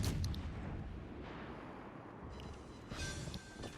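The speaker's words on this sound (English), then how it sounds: "we did manage to pick up the kill with a nice 700 damage salvo" Warship guns fire a salvo in World of Warships: Legends, a dense rolling roar of heavy naval gunfire and explosions that stays loud throughout, with another sharp burst near the end.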